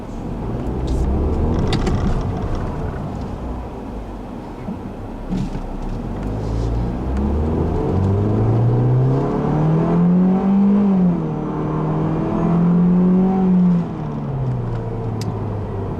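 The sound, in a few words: 2014 Ford Fiesta ST car driving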